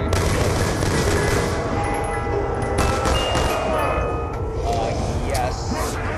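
Gunfire in the Black Ops 2 Zombies game on the Nuketown map, with an M14 in use. Rapid shots crackle in bursts through dense game noise, loud and close, under a player's voice.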